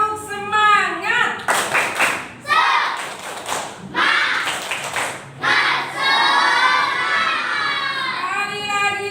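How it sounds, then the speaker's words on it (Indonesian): Group rhythmic 'tepuk semangat' spirit clap by a class or training group, bursts of patterned clapping alternating with chanting voices, fairly close and loud. "Mari kita tepuk tangan bersama."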